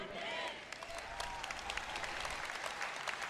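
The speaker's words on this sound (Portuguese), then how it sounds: "Tem uma senhora aqui na frente que bate palmas quando eu falo essas coisas" Scattered applause from an audience at a sermon on faith, sharp claps spread through the clip at moderate level, with faint speech-like voices and murmuring underneath.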